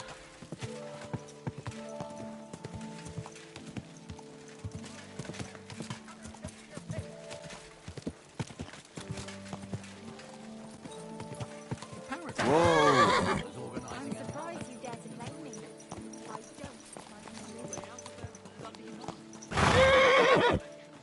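Horse in the medieval game Kingdom Come Deliverance 2 clip-clops with steady hoofbeats under game music and ambience, punctuated by two loud, close whinnies midway and near the end.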